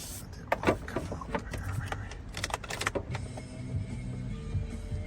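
The power windows of a 2004 Chevrolet Silverado 1500 V6 pickup whir as they run, with clicks, knocks and a steady motor hum close by.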